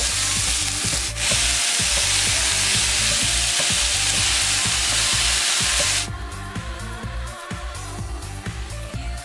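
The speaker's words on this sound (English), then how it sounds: "So you want to start breaking this up and cook it for about 4 minutes or so." Ground meat browning in a skillet for lasagne, a loud dense sizzle under rhythmic scraping strokes as it is broken up and stirred, the hiss dropping a little partway through, no voices.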